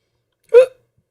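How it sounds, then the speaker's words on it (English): A single sharp hiccup, close and clear, a short voiced gulp against silence. "Yeah, the hiccups."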